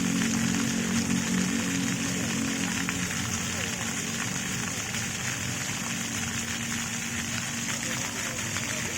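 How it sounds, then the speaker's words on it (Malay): A colorful fountain at Taman Sari Bustanussalatin in Banda Aceh sends water splashing in a steady, dense hiss close by, with a low mechanical hum and faint voices underneath. "Air mancur."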